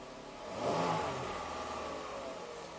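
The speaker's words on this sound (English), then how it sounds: "Let's fire it up, see how it runs." A 2015 Jeep Grand Cherokee 3.6 Pentastar V6 with a cylinder-two misfire code runs close by. Its engine note swells briefly and then settles into a steady, even hum.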